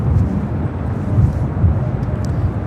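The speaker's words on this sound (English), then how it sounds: "Next arrival here on the north side is a flight coming from Atlanta, Delta Airlines flight 895, A321neo." Delta Airlines A321neo jet arriving at LAX, heard as a steady, fairly loud low rumble with swelling engine roar throughout, no voices over it.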